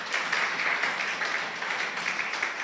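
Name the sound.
congregation applause for the Lord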